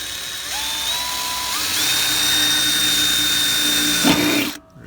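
A power drill whines steadily as it bores into the metal of a car side skirt. The pitch climbs in steps to a high sustained tone, then cuts off abruptly with a clunk.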